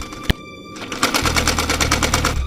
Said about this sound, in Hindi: उसके कानों में सिलाई मशीन की आवाज आ रही थी।